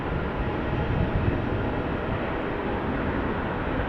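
Boeing 787 Dreamliner accelerating down the runway at Amsterdam Schiphol for takeoff, a steady broadband jet roar heard from a distance, constant and unbroken throughout with no voices.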